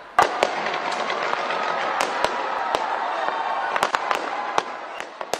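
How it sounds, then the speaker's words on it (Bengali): New Year fireworks burst over Auckland's Sky Tower, a dense, loud stream of sharp cracks and pops with a continuous crowd roar beneath. "2025 সালকে বরণ করা হয় অকল্যান্ডের স্কাই টাওয়ারের আতশবাজি উৎসব দিয়ে।"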